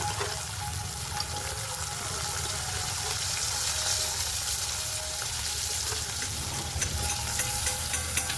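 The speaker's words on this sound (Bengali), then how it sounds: "বেগুন মাছ একসঙ্গে ভেজে নেব।" Eggplant and rohu fish fry together in a pan with a continuous close sizzle and watery bubbling hiss, steady throughout with a few sharper pops toward the end.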